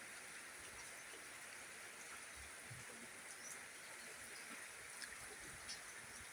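Steady rain falls over a lush vegetable garden planted with onions and beans, a soft continuous hiss with faint scattered patters and no voices.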